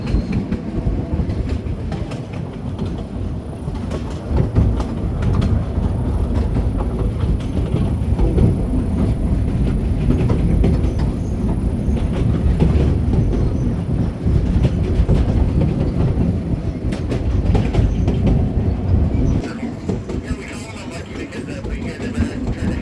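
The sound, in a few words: narrow gauge coal train running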